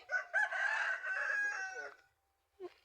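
A rooster on a small farm crows once, loud and close, a drawn-out call of about two seconds, followed by a short silence and the start of another sound at the end.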